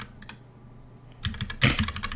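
Fast clattering keystrokes on a computer keyboard, a few light taps at first and then a loud dense burst of typing near the end, close and alone.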